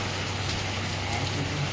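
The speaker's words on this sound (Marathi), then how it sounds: "बाहेर पाऊस पडतोय बघा जोराचा पाऊस आलाय" Steady, dense hiss of rain falling, constant in level with no pauses, heard alone without voices.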